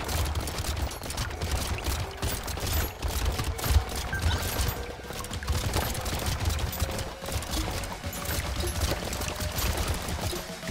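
Rapid weapon fire from the video game Brotato, a dense continuous stream of crackling shots and impacts at steady loudness throughout, with no speech.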